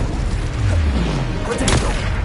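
A fire spell cast in Hogwarts Legacy sounds as a steady, loud whooshing roar with low rumbling and a brief bright crackle near the end, all under continuous game ambience.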